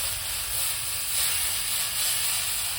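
Steady, loud hissing sizzle of broccoli hitting a hot pan, a continuous bright steam hiss that swells slightly and never pauses, with no voices.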